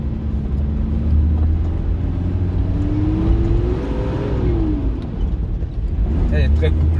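A high-mileage Nissan Patrol accelerates from inside the cabin, the engine drone rising steadily in pitch and then easing off, with a voice talking over it.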